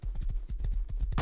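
A horse's hooves clip-clop at a fast run in a survival video game, with quick regular thuds for about a second before a burst of hiss cuts in.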